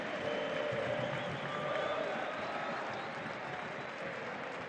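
A football stadium crowd at the Independiente Rivadavia vs Gimnasia match applauds player Méndez, a broad, distant roar of clapping and crowd noise that holds steady and eases slightly toward the end.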